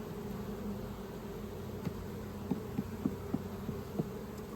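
Honeybees humming inside an opened horizontal hive, a soft steady buzzing drone with a few faint light taps and knocks, no talk.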